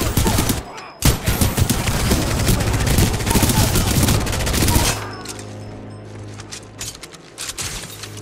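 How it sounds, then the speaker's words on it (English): Loud, rapid gunfire rattles from a gun in the video game Titanfall 2, a dense burst of close shots for about five seconds, then a lower rumble with a few more scattered shots. "Certainly a gun."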